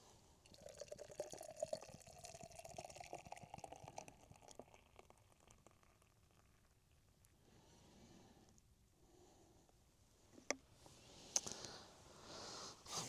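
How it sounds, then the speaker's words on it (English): Beer from a freshly opened can poured into a glass outdoors on Pendle Hill at sunset, a soft liquid gurgle and fizz that fades, then a few sharp clinks near the end. "gonna open another tinny, pour it in my glass."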